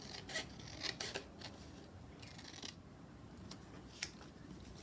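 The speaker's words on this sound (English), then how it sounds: "Quickly cut this one out." Scissors cut out a lace junk journal piece in a few quick, quiet snips, with light rustling of the paper and lace between them.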